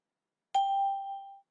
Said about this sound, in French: à la sonnerie, ça veut dire que votre enregistrement est terminé